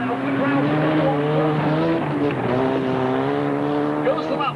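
Demolition derby cars roar around the track, engines droning loud and continuous with rising and falling pitch, while a commentator talks over them.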